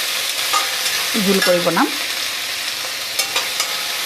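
Local chicken frying in a pan with ash gourd being prepared, a steady sizzle with scraping stirs throughout, a brief voice speaking near the middle over the cooking.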